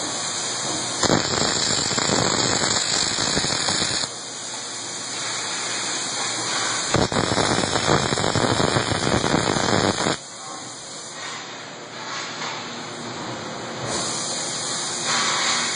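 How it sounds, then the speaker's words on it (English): An arc welder fuses a big M16 nut with a loud, crackling sputter that comes in several sustained bursts, stopping briefly between them. "This is welding the M16 nut."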